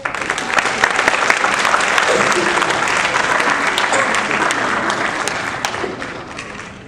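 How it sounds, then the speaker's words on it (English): An audience at a school play by the ALHS Lincoln Players applauds a volunteer, a dense, sustained wash of clapping from a sizable crowd that holds steady for several seconds before tapering off. "Can we have a round of applause for our volunteer?"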